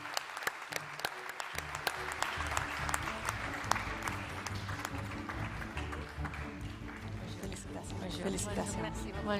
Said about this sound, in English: Mr. Karim, big round of applause to you, sir.